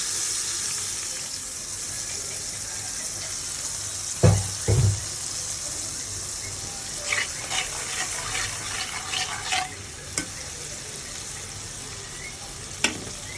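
Cumin, turmeric and salt dropped into hot oil sizzle with a steady, close frying hiss, broken by a couple of low thumps and scattered crackles.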